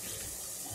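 Water pours into a cooking pan of chickpea gravy with potatoes, a continuous close splashing gush filling the whole short moment, steady and fairly loud, with no voice over it.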